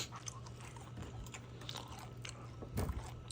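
Someone chewing homemade beef jerky sticks from a jerky cannon, quiet close-up biting and crunching with soft irregular chews and a sharper bite near the end.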